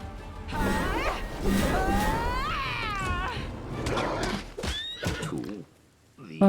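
Horse neighing in the video game Wrath of the Righteous: a loud, rising and falling whinny repeats several times over game background noise, ending in a brief lull.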